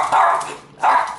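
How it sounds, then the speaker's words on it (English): Excited dogs bark indoors before going outside: two loud, close barks about half a second apart, short and sharp. "They're very vocal dogs."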